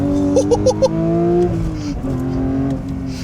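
A Porsche 911 GT3 Touring with its engine hanging out the back accelerates hard on a course, its loud, close engine note climbing steadily through the gears with a brief dip at a shift.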